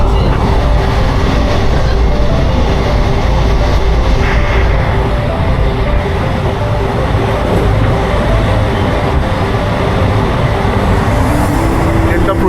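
Inside a moving passenger train in West Bengal on the way to Purulia, the carriage gives a loud, constant rumble and rattle of wheels on track, steady for the whole stretch, with talk in the background.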